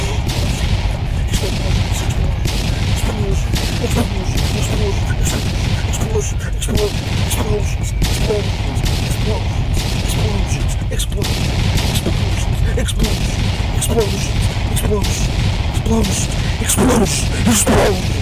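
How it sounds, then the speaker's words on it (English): Dense, continuous barrage of gunfire and booming blasts, loud and relentless throughout with no pauses. "Explosions!"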